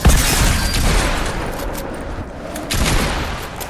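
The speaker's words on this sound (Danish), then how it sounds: "Så misser selvfølgelig også lige de andre skud her." Heavy bursts of gunfire in a video game, a loud continuous fusillade of shots with booming impacts, dense and close throughout with no voices.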